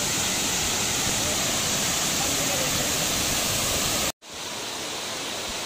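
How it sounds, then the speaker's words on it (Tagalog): Steavenson Falls in Marysville, Victoria, Australia, a steady broadband roar of falling water heard up close, cutting out abruptly near the end and returning fainter. "at napaka sarap pakinggan nung bagsak ng tubig, nakaka-relax"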